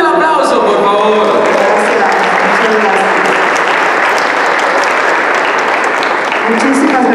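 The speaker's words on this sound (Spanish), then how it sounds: "¡Fuerte el aplauso, por favor!" Loud, sustained applause from a large crowd at a US Independence Day celebration in Mexico, dense clapping filling the whole stretch with voices and cheers mixed in.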